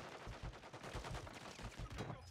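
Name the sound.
gunfire from an enemy in the video game Warzone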